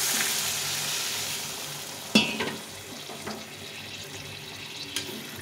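Boiled water poured into a hot pan of chara pona fish curry with winter vegetables: a loud hiss and sizzle at the start, then a sharp splash and a lower bubbling simmer with a few scraping clinks, no talking.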